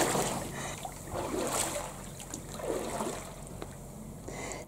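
Water laps and splashes around a dinghy and kayak off Taveuni, Fiji, as the dinghy is fetched, with close, soft, uneven swashes and trickles and a faint steady hum beneath.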